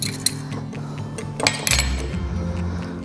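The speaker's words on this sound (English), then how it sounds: "So we'll just whisk that around." Chicken marinade of soy sauce and cornstarch whisked in a bowl, heard as steady close clinking and scraping of a whisk against the bowl, with a heavier clunk partway through and no talking.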